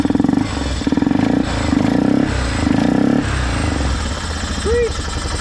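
An ATV engine runs steadily after its stuck-open throttle is freed, a loud near rough idle with a few throttle blips, while people talk over it.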